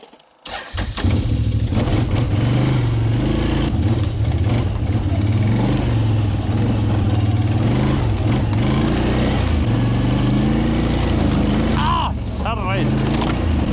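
An ATV engine cranks and catches, then runs loud and steady close by with a rough mid-pitched drone, while a voice speaks over it.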